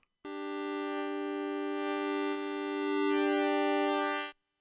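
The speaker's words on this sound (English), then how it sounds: "in the Take 5, we can morph through the waveforms" A sustained Take 5 synthesizer tone with a rich, buzzy harmonic stack that shifts in timbre as it morphs between waveforms, starting from a sine wave, ending abruptly after about four seconds.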